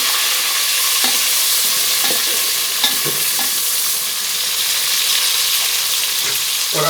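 A spoon scrapes and stirs onions and tomato in a pan over a steady sizzle, with occasional clicks of utensil against metal.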